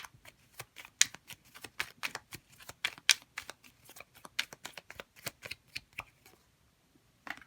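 Tarot cards being shuffled and drawn by hand: a quiet, close run of quick papery flicks and snaps in an uneven rhythm that trails off into near silence, then a last soft flick.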